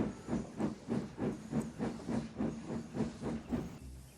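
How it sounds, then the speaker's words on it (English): A steam locomotive puffs away pulling an express train, giving steady, evenly spaced chuffs about three per second with a hissy edge, close and loud, with no voices. "then he puffed away with the express"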